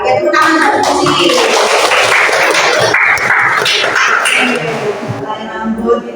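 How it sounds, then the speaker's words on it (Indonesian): Students in an Indonesian classroom clap briefly for a classmate during an art lesson, a short burst of mixed clapping with voices over it. "Ya, tepuk tangan muci."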